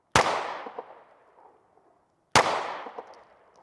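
Two sharp gunshots about two seconds apart, each followed by the ringing clang of bullets striking a Caldwell AR500 steel dueling tree target at an outdoor range, with a long metallic decay after each.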